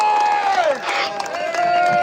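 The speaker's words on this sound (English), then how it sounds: "I'd like to give them a massive round of applause." Crowd at an outdoor protest rally in Braintree cheering and clapping in a loud continuous wash, with a whistle-like tone sliding over the noise.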